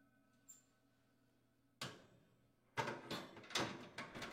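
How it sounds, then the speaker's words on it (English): Metal oven racks slide back into an oven, a sequence of scraping, clattering strokes after a single sharp knock, close and moderately loud with no talking. "Replace the oven racks."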